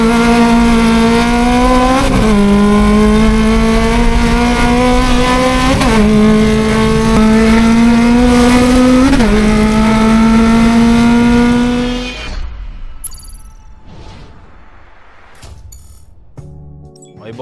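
A Honda Civic SiR engine revs hard and close, its loud drone climbing in pitch and dropping back several times in a stepped pattern before cutting off abruptly, leaving faint scattered noises afterward.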